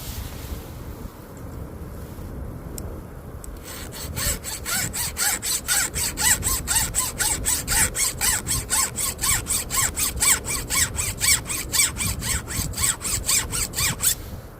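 A hand file strokes across a chainsaw tooth in steady, rapid back-and-forth rasps after a few seconds of quieter handling, close and fairly loud over light outdoor wind noise.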